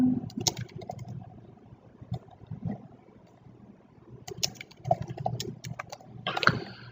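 Computer keyboard typing while writing in Microsoft Word, heard as bursts of quick clicking keystrokes at close range, with pauses between the runs of keys.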